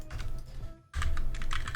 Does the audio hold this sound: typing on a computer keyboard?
yes